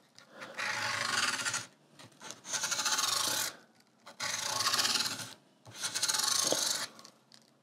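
A guitar's lacquer finish is rubbed by hand in four sustained, raspy strokes, each lasting one to two seconds with brief gaps between them, close and fairly loud with no talking.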